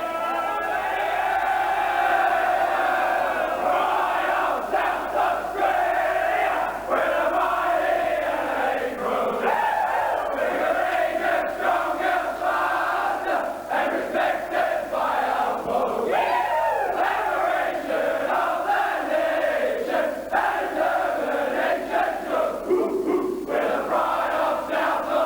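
The Adelaide Crows football team sings its team song loudly and with gusto after a win at Football Park, a dense massed chant of voices that keeps going without a break.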